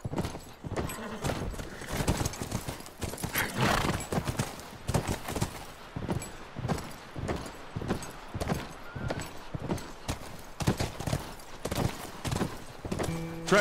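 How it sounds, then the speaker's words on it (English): Well-trained horses gallop in the video game The Last of Us, their rapid hoofbeats thudding in uneven bursts throughout, with a faint neigh at times. "Those are very well-trained horses."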